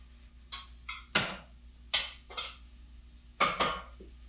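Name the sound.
mixing herbs and seasonings together in a pot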